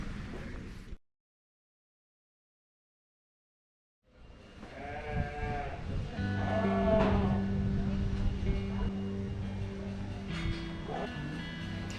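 Sheep and other livestock bleat and call inside a busy sheep barn at a fiber festival, several overlapping animal cries near and far over a murmur of people and barn noise, after a brief silent gap.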